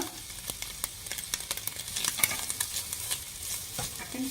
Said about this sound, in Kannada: ಈರುಳ್ಳಿ ಫ್ರೈ ಮಾಡ್ಕೊಬೇಕೀಗ